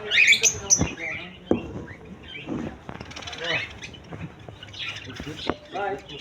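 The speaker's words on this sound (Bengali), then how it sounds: "অ্যালবিনো রেড আই ককাটির পাখি" Albino red-eye cockatiels in a bird shop give sharp, high chirps and calls, loud and close at first, then sporadic among other shop birds while someone talks throughout.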